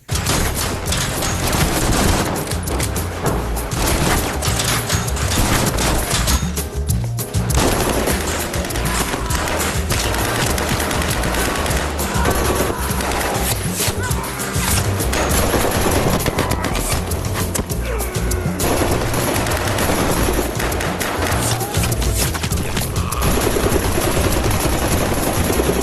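Dense, continuous gunfire fills a film action sequence, rapid machine-gun bursts and shots layered over a loud, busy soundtrack with a rotor-like rumble beneath.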